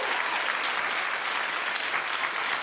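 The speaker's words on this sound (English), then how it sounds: "Keep clapping for Rosario." A studio audience at a daytime talk show claps steadily and loudly, a dense, even wash of applause that holds for the whole stretch with no voices over it.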